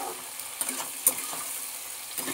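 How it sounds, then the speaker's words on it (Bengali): Mixed vegetables for spicy semolina fry in a pan with a steady, moderate sizzle, broken by a few light stirring scrapes and taps. "দেখো এগুলো একটুখানি ভালো করে ভেজে নিতে হবে।"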